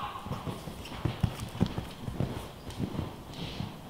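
Horse hooves clip-clop in an uneven cantering rhythm on an arena surface during a jumping riding lesson, moderately close with a few louder footfalls.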